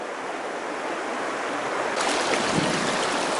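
Stream water rushes steadily around a big boulder in the middle of a Catskills trout stream, a dense, continuous wash that swells slightly louder partway through, with no talk.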